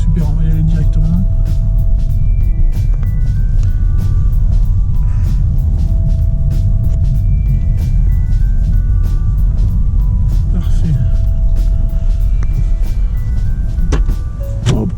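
A Hyundai Kona 64 kWh electric car drives on a Marseille to Paris trip, giving a steady low road and tyre rumble with faint electric whines and cabin tones throughout.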